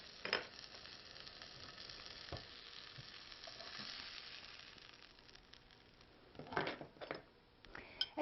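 A homemade sausage patty fries in a pan with a faint, steady sizzle. A few clinks and scrapes of a utensil against the pan come near the start and again near the end. It is quiet, with no talking.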